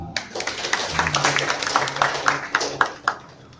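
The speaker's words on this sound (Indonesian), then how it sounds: "Tepuk tangan dong." A church congregation clapping hands together in a rapid, uneven burst of many claps, fairly close and loud, with voices murmuring underneath.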